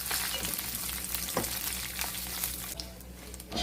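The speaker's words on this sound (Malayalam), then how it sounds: "നെയ്യ് ചൂടാവുമ്പോൾ ഒരു 15 ബദാം അരിഞ്ഞതാണ് ഞാനിപ്പോൾ ഇട്ടത്." Chopped almonds fry in hot ghee for a Kerala aval vilayichathu snack, giving a loud, dense, steady sizzle up close with faint stirring, and no voices.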